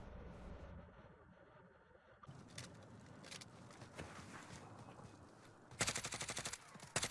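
Gunfire in the video game Call of Duty: Warzone, scattered distant shots followed by a loud rapid automatic burst near the end, no speech over it.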